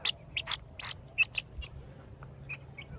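A young chick of the Americana breed, hatched in the Philippines, gives short, high, separate peeps in a quiet indoor setting, with a steady low hum behind.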